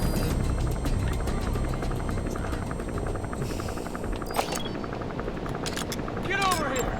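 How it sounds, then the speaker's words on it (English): A video-game helicopter drones with a continuous rotor chop throughout, mixed with game effects and a few sharp sounds, while voices talk over it. "Where'd that helicopter go?"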